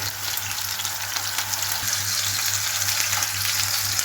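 Chicken pieces sizzling in hot oil just after being flipped, a dense continuous crackling fry heard up close without talk.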